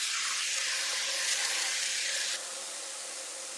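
Chicken sizzling on a George Foreman grill gives a steady, close broadband hiss that holds level, then drops a little quieter partway through and keeps going with no talk.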